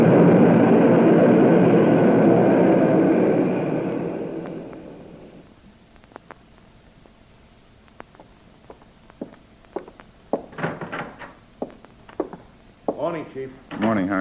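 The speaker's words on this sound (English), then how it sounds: "The plane." An airplane engine roars loudly overhead in an old radio drama, then fades away over several seconds, followed by quieter footsteps and a few sharp knocks or clicks.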